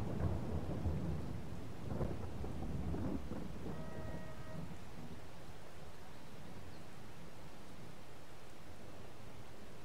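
Steady rain and rolling thunder in Farming Simulator 22, with a deep rumble swelling in the first few seconds over a constant hiss of rainfall that carries on alone.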